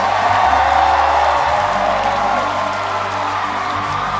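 A large crowd at a Pokemon tournament roars with applause and cheering, a dense and loud wash of sound that holds steady throughout with no distinct voice on top.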